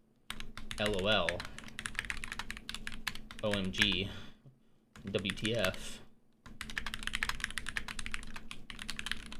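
Typing on a computer keyboard in hunt-and-peck style, bursts of quick clacking keystrokes broken by short pauses, with a person speaking over parts of it.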